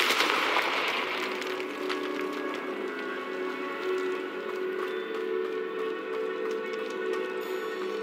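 A Confringo fire spell blasting in the Hogwarts Legacy video game: a sharp burst at the start, then a sustained rushing, crackling roar with sparkly high tones that carries on at a steady level.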